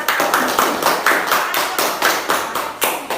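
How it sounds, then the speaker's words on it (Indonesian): A group of students in a classroom claps in quick, uneven bursts, a brisk round of applause close by with no talking. "Kalau sampai kan yang lainnya beri tepuk tangan dulu pada kelompoknya."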